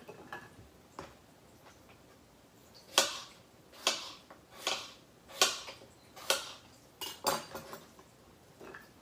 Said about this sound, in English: now that we have our apple chopped